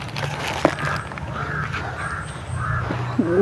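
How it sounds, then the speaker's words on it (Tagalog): A crow caws a few times against a steady low rumble of background noise, with faint rustling; the calls are moderately distant and brief, one near the start and another near the end. "Uwak mga idol."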